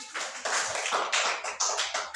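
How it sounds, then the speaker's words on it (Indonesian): A school class clapping in short, uneven bursts, a close, sharp patter of hand claps rising and falling several times. "Tepuk tangan."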